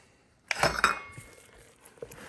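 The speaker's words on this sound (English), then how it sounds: "And just stir it up. Get it mixed in there." Wooden spoon knocking and scraping against a bowl while stirring a sourdough mixture, a few close, clinking strikes clustered together, then softer, sparse taps that fade.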